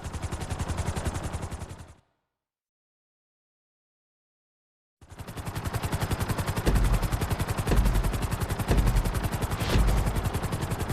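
A helicopter in GTA V flight school gives a loud, dense, chopping rotor roar that drops to complete silence for about three seconds, then returns steady and close, with a rhythmic beat continuing to the end.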